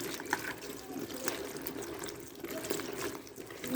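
Jujube (boroi) fruit being washed under running water for pickle-making, a steady trickling, splashing flow heard close up throughout with small irregular clatters of handled fruit.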